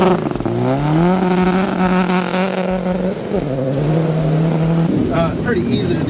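A 2016 Ford Focus RS on a rally stage revs and shifts through gears from inside the cabin, the engine note climbing, dropping and climbing again, loud and close, while someone talks over it.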